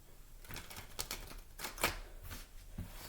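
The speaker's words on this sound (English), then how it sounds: "Let me get a good shuffle for that." Quick crisp riffling bursts of tarot cards being shuffled, several short clattering flurries close by and fairly quiet.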